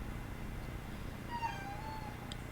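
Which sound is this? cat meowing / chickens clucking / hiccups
cat meowing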